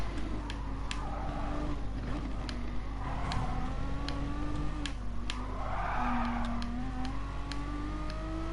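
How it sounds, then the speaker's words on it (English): A Gran Turismo Sport Gr.4 race car drifts through a corner at Mount Panorama: a steady engine drone runs throughout while tire squeal rises and falls in several swelling bursts, with no talking. "Big drift in that corner, we lose a lot of time"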